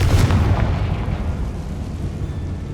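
A Confringo fire spell explodes in the game Hogwarts Legacy, a single loud, close boom with a burst of crackle that rumbles and trails off over a couple of seconds.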